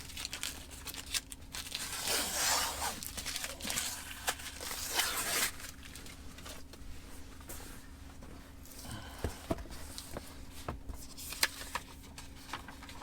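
A plastic accessory packet for a Tesla Model 3 screen protector film gets opened, with crinkling and tearing in bursts at close range followed by quieter rustling and small handling clicks.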